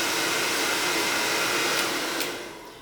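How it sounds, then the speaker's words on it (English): A hairdryer blows hot air to soften leftover wax on carpet, a steady, loud whooshing whine that runs continuously and fades slightly at the end. "Get a hairdryer."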